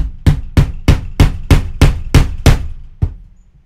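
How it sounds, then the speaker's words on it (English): A poly maul drives a pricking iron into leather with nine sharp, evenly spaced thuds about every third of a second, close and loud, ending after a short pause on a final strike, with no talking. "I'm going to be using a poly maul to bash it in."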